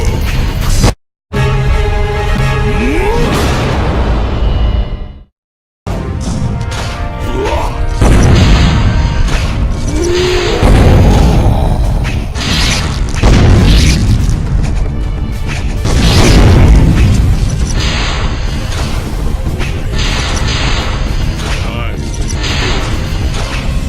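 Heavy cannon blasts boom repeatedly during the Noh Master boss battle in the PS2 game Red Ninja, crashing impacts and whooshes layered over dense game music and effects, with two brief silent gaps near the start.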